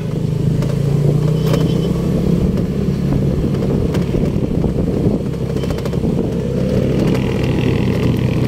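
Road traffic near Lobo and San Juan, Batangas, with a continuous close rumble of passing cars and motorcycles, engines droning and revving over a dense clattering wash.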